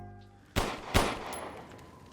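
Two sharp gunshots from a Black Mesa firefight crack out close together, each leaving a short decaying tail, with near quiet in between and no one speaking.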